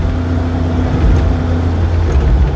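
A Reliant Scimitar GTE running in fourth gear drops its revs as the overdrive engages: a loud, close, steady engine drone that sags slightly partway through, with no voices.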